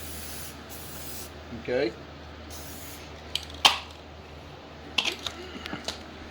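Short hissing bursts of spray paint being applied to a Ford 5.4L 4V engine, several brief sprays followed by scattered clicks and handling noises, with one word spoken briefly.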